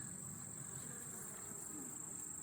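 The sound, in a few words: honey bee buzzing at beekeeper's veil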